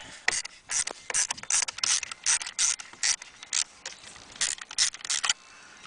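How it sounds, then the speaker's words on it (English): A screwdriver fitted with a T20 Torx bit works a screw loose from the steering column of a 1989 Jeep Cherokee, giving a quick run of close, crisp ratcheting clicks in short irregular bursts with no talking. "Getting my screwdriver ready here."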